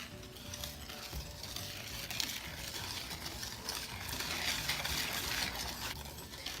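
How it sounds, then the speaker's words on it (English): Vanilla and rice milk being stirred into vegan cake batter, a close, continuous wet scraping and swishing of the mix with no talking. "now we're gonna add in our vanilla and our rice milk. And mix that all together"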